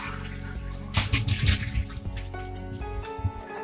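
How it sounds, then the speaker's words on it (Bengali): Tomatoes of mixed sizes rinsed in clean water at a kitchen sink, with running water splashing loudly over them in bursts, then settling into steadier trickling and light clatter near the end. "এইগুলোকে আমি পরিষ্কার জল দিয়ে আমি ধুয়ে নেব।"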